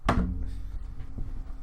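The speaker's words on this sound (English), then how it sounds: "close the door" A door is shut with one firm thunk at the start, followed by a faint room tone and a small secondary knock, no talk.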